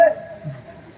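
A single brief telephone dialing tone, a clear electronic beep at the very start that fades quickly under a short stretch of voice.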